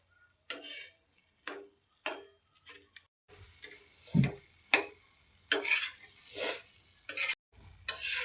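Boiled egg tawa fry is stirred in a pan, with repeated scraping strokes in uneven bursts over a faint sizzle, close and moderately loud, with no voices.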